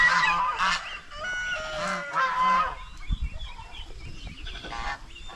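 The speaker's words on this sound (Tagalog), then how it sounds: "Yung mga alaga natin pato, oh." Ducks quack and honk repeatedly nearby in a noisy, overlapping chorus, with a few splashing knocks toward the end.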